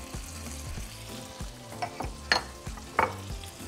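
Bite-sized potato pieces fry in melted butter in a skillet, giving a continuous close sizzle with a few sharper crackles and pops toward the end.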